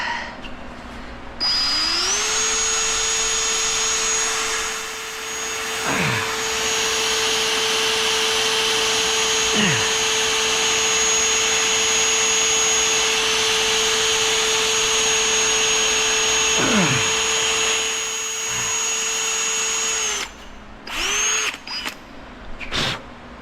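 A power drill runs continuously for nearly twenty seconds while mounting a Fiamma F45 awning, a steady high whine with brief pitch dips as it bites, stopping with a few short bursts at the end.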